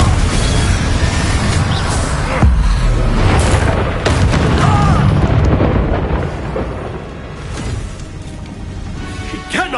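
A Confringo fire spell blasts in Hogwarts Legacy on PS5, a loud, dense boom with rumbling debris that stays heavy for several seconds under the game's ongoing battle noise.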